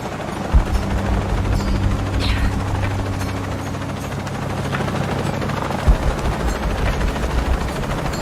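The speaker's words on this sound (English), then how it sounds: "Chopper, I've got a pilot." Helicopter in the video game Shadow of the Tomb Raider, a loud continuous rotor throb and engine whine with a couple of sharp thuds over it, no talking.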